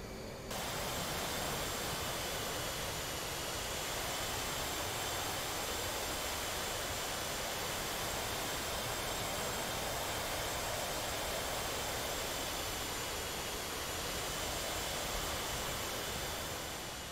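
A jet aircraft landing in the DCS flight simulator roars as a steady, loud, unbroken engine whine and rush of air, with no talking.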